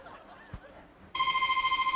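A telephone in a comedy skit set at a dinner gathering rings loudly and continuously with a steady electronic warble. It starts abruptly after a second of quiet room tone with faint murmurs.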